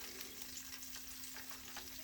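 Oysters and shrimp fry in hot grease, giving a soft, steady sizzle and crackle for about two seconds, close by but quiet.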